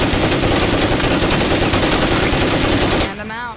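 A gun in the video game State of Decay 2 empties its magazine in a loud, rapid, unbroken burst of automatic fire lasting about three seconds before cutting off.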